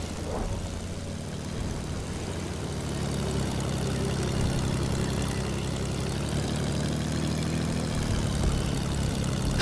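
Constant droning propeller-plane engine in Fortnite, a deep steady hum that swells slightly louder toward the end, heard alone without talk.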